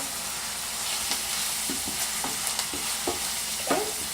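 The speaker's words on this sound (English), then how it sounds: "So we just let that saute, just for the flavors to start coming out of the vegetables." Vegetables for a tomato sauce sauté in a pan on an induction hob, a steady close hiss of frying with light intermittent stirring clicks and scrapes, no voices.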